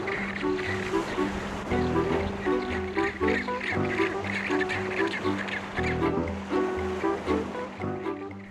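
A huge rockhopper penguin colony calls from steep rock clefts near the water on the Falkland Islands, with dense overlapping braying and squawking cries over a constant wash of surf.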